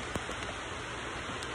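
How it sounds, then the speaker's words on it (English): Steady rain falls outdoors as a continuous broadband hiss at moderate level, with a few faint drop taps standing out briefly and no talking. "Wow, it started raining."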